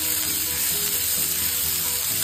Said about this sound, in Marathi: त्यानंतर मी इथे पॅनमध्ये तेल गरम करून घेतले होते आणि बारीक चिरलेला कांदा घातला आहे मी अर्धी वाटी।